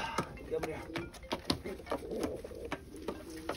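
An American pigeon kept in a loft coos softly and repeatedly near the listener, low throaty calls recurring in an uneven rhythm, with light knocks and rustles around it.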